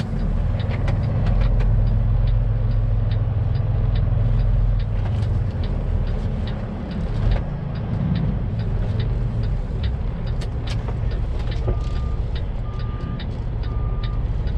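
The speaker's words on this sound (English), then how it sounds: "Greenbelt Peterbilt that just went by, that tanker" A green Peterbilt tanker truck rolls past on the road with a loud, deep engine rumble and road roar that swells and fades, heard up close from inside a moving cab, with a few brief clicks and beeps.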